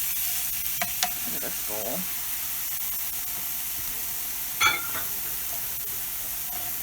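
Ground bison browning in a hot pan hisses in a constant loud sizzle, with scraping and clicking as it is broken up and stirred; a voice speaks briefly.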